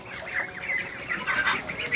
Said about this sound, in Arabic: اوريكم البط السكوفي بطايه